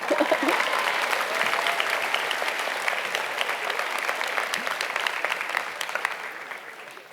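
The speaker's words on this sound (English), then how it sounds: "you can give me a round of applause if you want" A school audience at a middle school moving-on ceremony gives a round of applause for the teachers, a dense, steady wash of many hands clapping that holds for several seconds and tapers slightly at the end.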